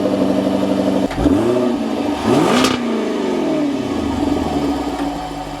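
A Jaguar F-Type 5.0 V8 revs up hard, its loud engine note climbing in sweeping rises and falls through several gear changes, close and dominant with no talking.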